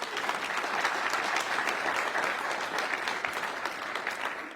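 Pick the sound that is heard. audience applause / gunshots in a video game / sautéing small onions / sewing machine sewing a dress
audience applause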